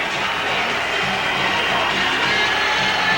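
Boxing arena crowd erupting as Prince Naseem Hamed appears, a dense, loud roar of cheering that holds steady throughout.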